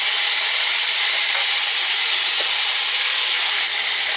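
Tomato and mango drop into hot oil seasoned with bay leaves, a dried red chilli and five-spice seeds, setting off a loud, steady, hissing sizzle that continues without talking.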